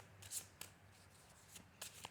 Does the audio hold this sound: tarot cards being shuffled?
yes